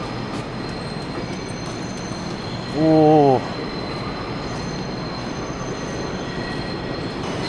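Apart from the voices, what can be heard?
New York subway express train running on old rails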